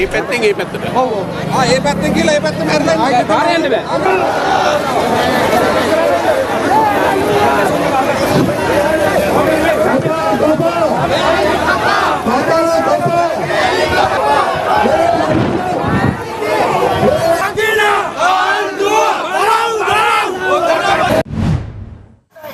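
Large street crowd surging toward a hospital, continuous loud babble of many voices with shouts, moving chatter and passing traffic throughout, ending abruptly.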